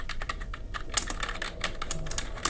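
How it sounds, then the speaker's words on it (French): Rapid clacking of a big old computer keyboard, keys struck in quick uneven bursts, close and clear with no voices. "On a un gros et vieux clavier"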